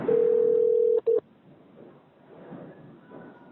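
Phone call to Axis Bank being transferred to a phone banking officer: a steady electronic tone holds for about a second, cuts briefly, resumes, then gives way to faint line noise and hold audio.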